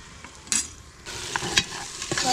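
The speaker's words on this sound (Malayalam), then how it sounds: "മസാല ചേർത്തിട്ട് നന്നായിട്ട് ഇളക്കി കൊടുക്കാം." Biryani masala being stirred into mutton frying in a pan for Kerala-style mutton biryani, a close scraping stir with a soft sizzle and a few sharper clinks of the spoon against the pan.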